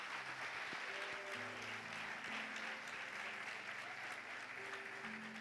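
Church congregation applauding the Lord during a sermon, a steady wash of clapping held at an even level throughout, with sustained organ or keyboard tones sounding underneath.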